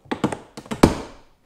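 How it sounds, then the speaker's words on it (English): A plastic door trim panel on a Hyundai Palisade pried loose with a trim tool: a few close, sharp taps and clicks, ending in one louder popping thunk as a clip releases, with no talking. "pop your trim tool in there, pry,"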